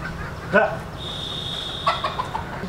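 A rooster gives a few short clucks close by, with a steady high tone and faint background noise.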